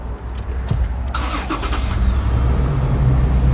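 The 4-litre engine of a 2019 Toyota Land Cruiser Prado cranks and catches, then settles into a steady, loud idle rumble close by.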